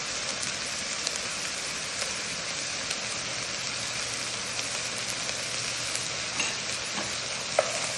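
Ground meat sizzles in a pan while tomato paste is stirred in, a steady crackling hiss with faint scraping of the spoon and a couple of light clinks.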